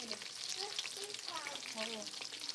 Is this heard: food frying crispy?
yes